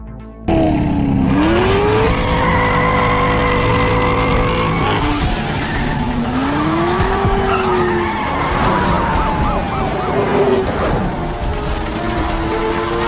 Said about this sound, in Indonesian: Cortez langsung tancap gas, menerobos blokade polisi.